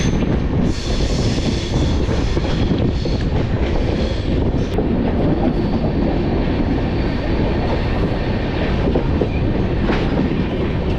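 The Lal Kuan–Howrah Superfast Express runs on the tracks through hills and tunnels with a loud, constant rumble and rhythmic clickety-clack, heard from onboard, with wind buffeting and no talk.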